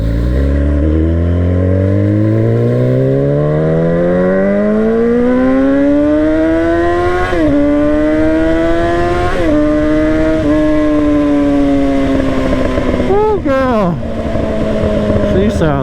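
Motorcycle engine revving hard and loud, pitch climbing steadily then holding high with several sharp throttle blips and drops near the end, close and continuous.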